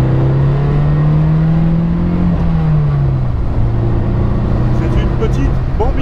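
A light Morgan 4/4 Sport car accelerates. A sustained, close engine drone shifts in pitch, dips and then settles into a steady note over about six seconds.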